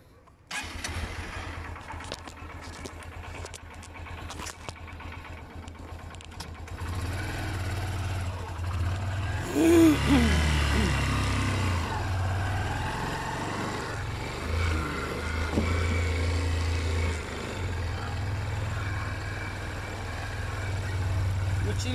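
A motorcycle engine starts and settles into a steady, low idling rumble outdoors on a lot, holding at moderate loudness throughout against background noise.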